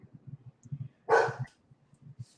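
Gypsy, an old dog going blind, lets out a single sharp close bark, with soft rhythmic thumping noises before and after it.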